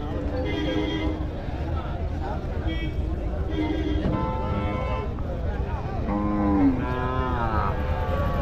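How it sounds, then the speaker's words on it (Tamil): Plough bullocks at a Tuesday cattle market low repeatedly, several drawn-out moos rising over a steady crowd murmur and someone talking nearby. "இங்கே ஒரு ஜோடி பாருங்கள் இதுவும் ஏறு மாடுங்க"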